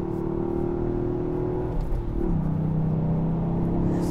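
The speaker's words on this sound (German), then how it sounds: "Der Sound wird im Motorraum aufgenommen und durch die Lautsprecher hier in den Innenraum rein verstärkt." A steady Toyota GR Yaris engine drone heard from inside the cabin, recorded in the engine bay and amplified through the cabin speakers, its pitch dropping as the gear changes midway, humming evenly throughout.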